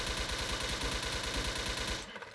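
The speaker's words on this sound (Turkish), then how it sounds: "Ve camdan mermi geçmiyor herhalde. Şöyle deniyorum." Rapid automatic gunfire in the video game Wolfteam, aimed at glass on a museum map, rattles in a dense, steady burst for about two seconds before abruptly stopping.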